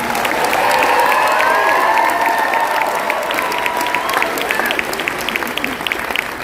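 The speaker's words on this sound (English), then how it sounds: "So please give yourself another huge round of applause because you are part of this historic event." Applause from a large convention audience of over 2,000 attendees in Las Vegas, a dense, loud, sustained clapping that holds steady throughout and tapers slightly near the end, with a voice talking over it.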